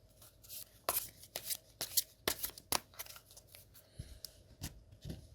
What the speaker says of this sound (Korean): 첫 번째 조언 카드를 뽑고요. 두 번째 조언 카드도 뽑아볼게요.